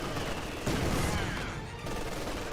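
Mortar fire and explosions in the Company of Heroes 2 video game, a dense continuous rumble of distant blasts and crackling fire, with a louder, heavier burst about midway through.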